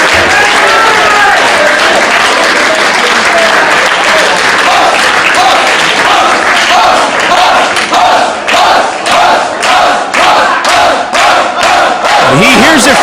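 A packed crowd at a Dragon Gate USA wrestling show in Fall River roars and applauds loudly, with cheering and chanting that settles into rhythmic clapping surges, while a commentator talks over the noise.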